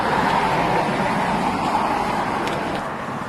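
Steady road traffic rumbles in a downtown street, broadband and continuous with a faint engine drone that eases slightly toward the end, as a city bus draws near; no voices.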